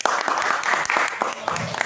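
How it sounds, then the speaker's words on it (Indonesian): Audience clapping at a school alumni gathering and arts performance in Cileungsi, a short burst of many hands under talk. "Tepuk tangan buat Abi Nasibudin."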